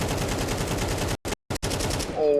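An AK rifle fires in Counter-Strike, loud rapid automatic bursts cut by two short breaks, then a final burst before a brief tonal game sound.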